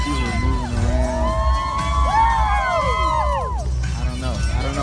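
Dense New Year's Eve crowd in Times Square screaming, whooping and cheering while waiting for the ball drop, many overlapping high shouts over a loud, constant hubbub of voices close around.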